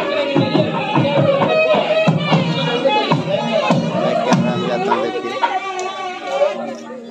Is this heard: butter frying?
no